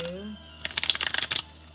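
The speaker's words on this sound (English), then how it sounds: "I'm going to give 3 shuffles." Tarot cards shuffled by hand: a brief burst of quick, crisp riffling flutters lasting under a second, close and fairly quiet, following a short stretch of speech.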